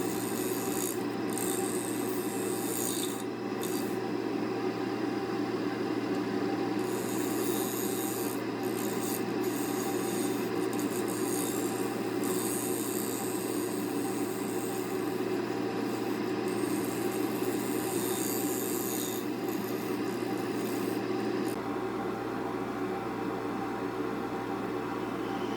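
A skew chisel cuts a wooden tenon on a spinning lathe, giving a steady rasping, scraping hiss that runs continuously and close, with a brief lull near the end.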